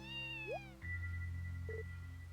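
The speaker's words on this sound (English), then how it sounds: "A cat?" A cat in the video game Trails to Zero gives one short meow, clear and close, over a soft, steady game music background.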